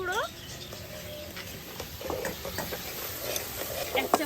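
Spice paste with turmeric sizzles in a pan, cooked down while a fish-head ghonto is made, with scraping stirs and soft clatter under some background voices, moderately close.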